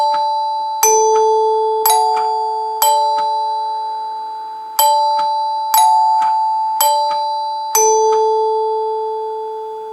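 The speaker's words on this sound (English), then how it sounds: "Chord note chimes have a special sound to them." Vintage NuTone K40 Symphonic chord note door chimes from the late 1940s to 1950s ring in clear, loud struck chords that sustain and slowly fade, sounding in several groups of rapid strikes with no talking.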